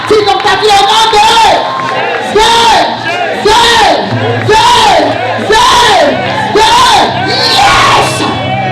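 A church congregation at a French-language revival gathering cheers and acclaims in loud, rhythmic waves of shouts and whoops, the bursts rising and falling every second or so.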